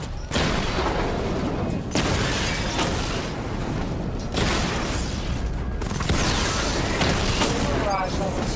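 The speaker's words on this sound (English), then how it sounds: "Charge the missile barrage to level 2 to destroy up to 4 targets at once." Batmobile missile barrage from Batman Arkham Knight fires in loud, dense bursts of booms and explosions, with rapid pops in repeated waves over a constant mechanical roar.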